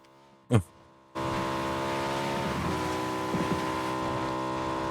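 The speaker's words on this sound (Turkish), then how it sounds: "Araba mı geliyor acaba? Arabadan mı sıkıyorlar ya?" A vehicle's engine in the PUBG battle game sets in abruptly after a sharp brief knock and then runs as a steady, fairly loud droning hum, suggesting a car close by, with occasional bumps and rattles over it.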